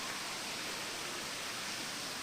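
Kabugsayan Falls waterfall roaring as a steady, dense broadband rush of falling water, continuous and fairly close, with no voices over it.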